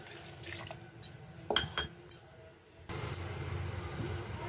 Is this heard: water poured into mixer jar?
yes